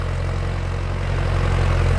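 Steady low drone of a Massey Ferguson MF5710 cab tractor engine running near a sugarcane field, close and continuous, swelling slightly toward the end with no talk.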